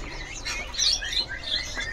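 Caged songbirds at a bird market, where kacer are offered for sale, give quick, bright chirps and tweets in scattered bursts over a low background hum.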